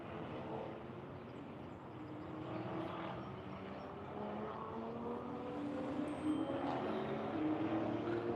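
Faint, distant engine drone with a rising and falling whine of cars lapping a race track far off, steady and low beneath the background.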